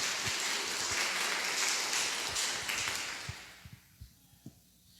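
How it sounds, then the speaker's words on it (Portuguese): A church congregation claps together after a scripture reading, a dense burst of applause that thins out and fades over a few seconds, ending with a few last scattered claps. "Podemos aplaudir a palavra de Deus que nós acabamos de ouvir."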